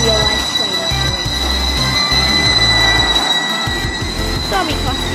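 A train rumbles past in the video game Stepford County Railway, with squealing wheels and rhythmic rail clatter, loud and continuous, with faint voices talking underneath.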